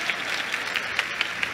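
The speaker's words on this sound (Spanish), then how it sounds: "Un aplauso, hombre." Audience applause at an informational session on new free textbooks, a quiet, brief burst of many hands clapping with a few sharper claps standing out.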